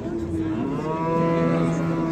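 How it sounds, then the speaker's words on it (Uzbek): A cow lows with a long, deep, steady moo at a livestock market in Rishton, loud and close, the call swelling slightly toward its end over faint market background. "Mana sigircha, mana sigir."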